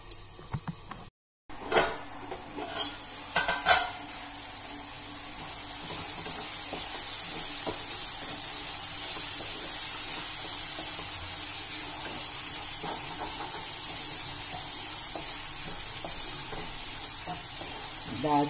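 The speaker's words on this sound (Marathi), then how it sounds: "2-3 मिनिटं डाळीला छान शिजू देऊया आपण।" Chana dal cooking in a covered pan on low heat, a soft continuous sizzle and hiss that settles into a steady texture after a few early clatters and a brief gap.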